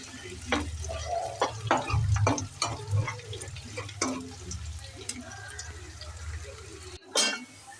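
Onions and chicken pieces fry in a pan for Bangladeshi chicken haleem, a steady close sizzle with stirring clatter throughout, ending in a brief louder scrape.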